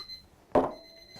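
A kitchen timer goes off for mince pies baking in the oven: one short, sharp buzz over a steady high electronic tone, in a quiet kitchen.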